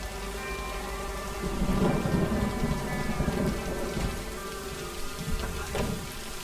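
Steady rain pours in the video game Lake while deep thunder rumbles swell through the middle and fade again, with a sharper crack near the end; continuous and fairly loud, no voices.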